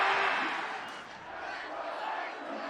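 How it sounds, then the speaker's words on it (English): A stadium crowd at a professional lacrosse game roars with a broad, sustained wash of jeers and shouts, loudest at the start and then settling into a steady murmur. "Listen to the crowd"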